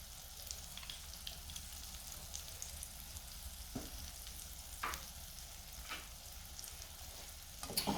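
Pancake batter sizzles in melted margarine in a pan, a steady soft crackling fry with occasional clicks of a utensil against the pan, fairly quiet and without talk.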